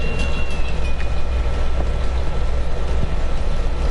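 Moving train in the Uncharted 2 video game: a steady low rumble and rattle of a rolling rail car, continuous and fairly loud, with a faint high whine drifting through it and no talk.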